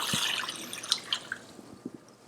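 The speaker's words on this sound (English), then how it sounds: "8 quarts of water going into the pot." Eight quarts of water going into a stock pot of turkey bones with carrot, celery and onion, heard as soft splashing and scattered drips close by.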